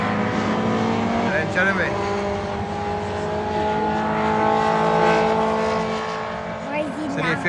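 Race cars roar past on the circuit during a 15-minute race at Donington Park, a loud continuous engine drone rising and falling as they pass, with a commentator talking over it.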